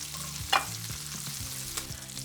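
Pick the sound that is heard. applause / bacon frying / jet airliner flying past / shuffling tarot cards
bacon frying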